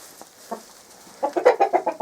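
Chickens in a scrapyard-type lot cluck in a quick, rhythmic burst of six or seven loud, close calls, after a couple of softer isolated clucks and a quiet pause.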